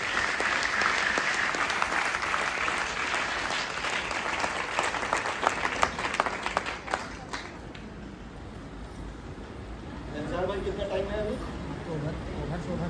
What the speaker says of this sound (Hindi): ऊपर वाले को एक जोरदार ताली बजाइए उनके लिए